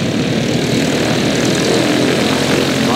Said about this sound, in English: Here comes the airplane.